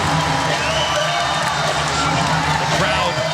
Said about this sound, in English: The crowd to its feet.